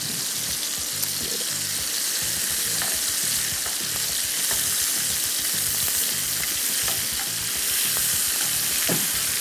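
Chicken sears in a pan over a high flame, sending up a loud, dense, unbroken sizzle and crackle with occasional stirring clicks and no voices.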